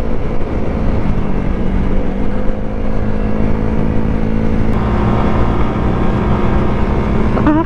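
A big motorcycle cruises at about 60 km/h along the Marilaque mountain highway, its engine a steady, loud, close drone mixed with wind rush that holds evenly throughout, with no talking.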